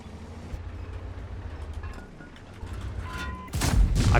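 In World of Tanks, a tank cannon shot bounces off an enemy AMX CDA: low engine rumble and distant battle noise give way to a sudden loud, sharp metallic impact burst near the end.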